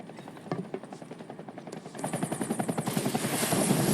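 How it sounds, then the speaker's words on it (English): A Shinra helicopter in the Final Fantasy VII Remake game whirs with steady rotor chopping that swells louder and nearer, with game sound effects layered over it. "all of a sudden it gets hit, and the chopper goes down, hit by a Shinra chopper"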